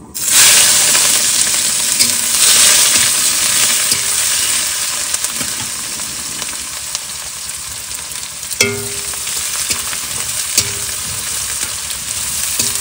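Chopped ginger, garlic and onion fry in an oil-filled pan, a steady close, loud sizzle with occasional stirring scrapes and clinks, continuous without voices.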